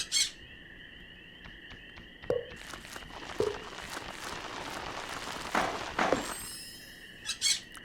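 Parrots squawking in a Stardew Valley cutscene, several short chirps and squawks scattered over a steady game music bed with faint tapping, moderately quiet.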